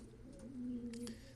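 Pigeons in a backyard breeding loft give a single low, throaty coo that swells and holds for about half a second, close by, over a faint background murmur.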